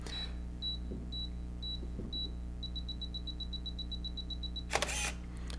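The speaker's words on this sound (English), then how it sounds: "With self-timer, it counts down from 10 seconds and displays the amount of time left in the LCD, beeps the entire time very loudly" Canon EOS Rebel camera counting down on its self-timer, giving a steady series of sharp electronic beeps that quicken toward the end, loud and close against a quiet room hum.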